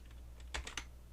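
A few quick keyboard key presses of a Ctrl+F shortcut in DaVinci Resolve 16, close and fairly soft, clicking in a short burst over a low steady hum.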